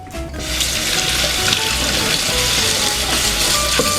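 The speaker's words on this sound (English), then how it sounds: "I'm just going to go to the sink here and wash them" Tap water runs steadily into a kitchen sink as pears are rinsed, a continuous close hissing splash with faint clinks and shifting tones as the fruit moves under the stream.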